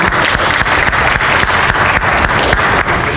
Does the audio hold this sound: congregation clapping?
yes